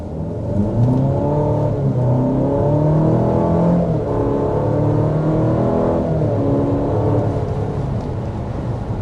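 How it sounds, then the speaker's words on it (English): A 2024 Cadillac XT4 accelerates from a standstill, its engine note rising steadily and loudly through the run, with the revs climbing in smooth pulls and no talking over it. "There's an acceleration from a stop."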